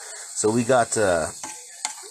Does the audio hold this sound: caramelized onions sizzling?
yes